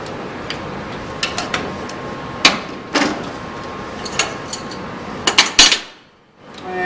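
Metal fitting work on a gas pipe union being tightened with a wrench: scattered sharp clicks and clanks at irregular intervals, a cluster of louder knocks near the end, then a brief hush.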